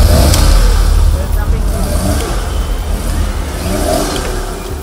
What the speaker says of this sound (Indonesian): Salah satu mobil terperosok ke dalam kubangan.